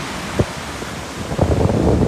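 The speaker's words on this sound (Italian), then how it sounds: "il mare della costa tirrenica, vedete, molto agitato" Rough, stormy sea on the Tyrrhenian coast of Sicily in the province of Messina, with wind buffeting the microphone into a constant roar and a few louder surges of waves washing in toward the end.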